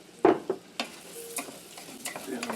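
Rice stirred in a frying pan over the stove, giving a few sharp scraping strokes followed by a soft, steady sizzle, close and fairly quiet, with no voices.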